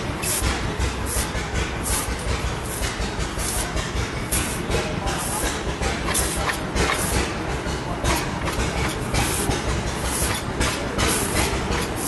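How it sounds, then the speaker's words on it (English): A small old steam engine runs steadily at a show demonstration, making a continuous chuffing, hissing rumble with a rapid rhythmic beat that fills the background throughout. "Love the sound of that little engine in the background."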